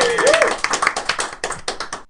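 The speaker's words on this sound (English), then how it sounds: "So it ends with a clapping sound" Clapping sound effect from a Scratch animation, a short burst of crisp rapid claps that thins into scattered claps and stops, opening with a brief cat meow-like tone.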